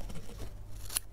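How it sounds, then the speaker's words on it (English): Scissors snip through paper being cut for a collage, a single short close crisp cut near the end of a quiet moment. "I think I'll just use my scissors."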